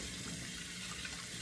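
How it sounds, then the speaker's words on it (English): Cold water running from a bathroom tap into a sink before a shave, a steady soft hiss and splash, quiet and constant through the short stretch. "Turning on the cold water."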